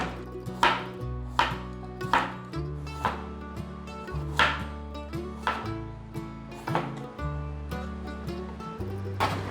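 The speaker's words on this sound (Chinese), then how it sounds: "把小黄瓜的头尾去掉，把小黄瓜切片" A knife slicing a small cucumber on a cutting board, a steady series of crisp, close chopping knocks at a regular rhythm, with a low tonal sound sustained underneath.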